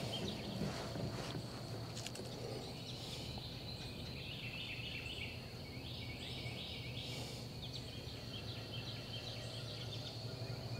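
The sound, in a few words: boat passing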